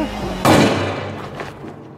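A single sharp, loud blast of a gunshot rings out, followed by a long echoing decay over a low background murmur.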